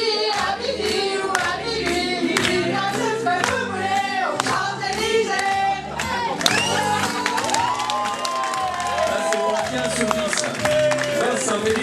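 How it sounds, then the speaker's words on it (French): An audience claps and cheers loudly and steadily at a 35th anniversary celebration, with rhythmic hand clapping and crowd noise mixed under music and voices throughout. "On peut applaudir Pascal."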